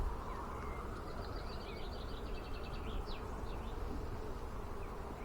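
Honey bees hum steadily in an open hive during swarm season as frames of fresh wax foundation are lifted, a continuous close buzz with a few brief higher insect whines on top.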